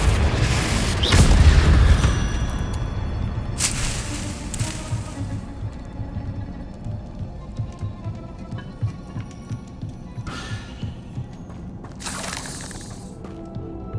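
Spell blasts in the Hogwarts Legacy video game: a heavy booming burst near the start fades into a throbbing low rumble, followed by further sharp impact bursts later on, with no talk.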